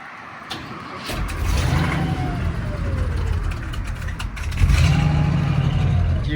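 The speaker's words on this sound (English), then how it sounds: "You can see the 365 cubic inch V8 sounding great on this car." A 1958 Cadillac with a 365 cubic inch V8 starts up and runs close by, with a rumbling idle that swells into a louder rev partway through.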